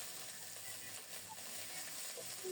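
Ground ginger paste fries in hot oil with a soft, continuous sizzle, steady and fairly faint throughout.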